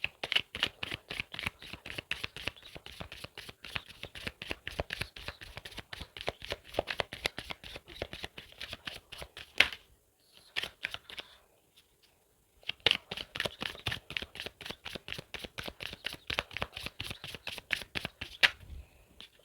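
Rapid, crisp riffle of tarot cards being shuffled by hand up close, in long dense bursts broken by a brief pause before the shuffling resumes, with no talking.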